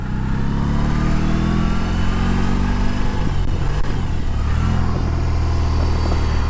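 A BMW R18 2022 boxer-engine motorcycle rides along, its low, throbbing engine note steady and loud throughout with a brief shift in the middle, no voices over it.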